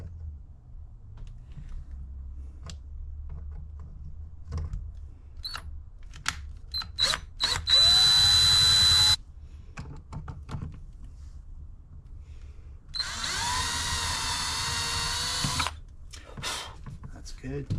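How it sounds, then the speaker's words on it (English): A power drill whirs in two bursts of a few seconds each, pre-drilling holes close by, with clicks and handling noises and a person talking between. "Going to pre-drill some holes."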